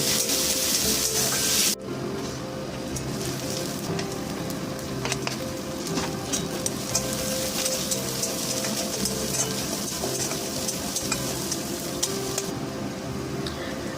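Chopped onion fries with cumin seeds in hot oil, a dense, continuous sizzle like rain on a surface, close and steady, with occasional small taps of a stirring spoon.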